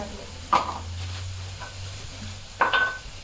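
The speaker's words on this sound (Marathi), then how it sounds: "आता त्याला तळा तळा तळा तळा नुसतं तळा" Gram flour (besan) batter frying in a pan gives a soft, close sizzle with a low steady hum beneath, broken by two brief louder stirring scrapes.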